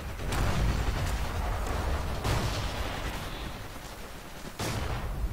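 Artillery fire in the Forgotten Hope 2 video game on the Giarabub desert map: heavy booming blasts and distant explosions rumble continuously, with sharper impacts roughly every two seconds over a dense low battle din.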